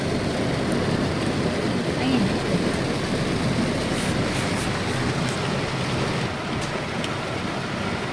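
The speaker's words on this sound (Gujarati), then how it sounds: "વરસાદ આ તો જો ઘણો આવ્યો હો" Dense, steady rain pours down on the streets of Rajkot in a continuous hiss, heavy and close, without pause.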